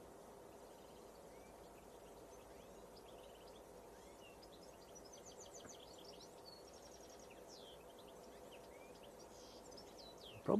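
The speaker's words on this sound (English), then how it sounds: "Probably hear the birds in the background tweeting away." Small birds tweet faintly in the distance near an airport, scattered chirps and short trills over a steady low rumble of background noise, with a brief louder knock at the very end.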